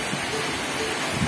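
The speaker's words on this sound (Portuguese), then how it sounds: "Está chovendo na minha cidade." Steady rain pours down over a city, a dense, continuous hiss of drops close to the microphone with no breaks or other sounds.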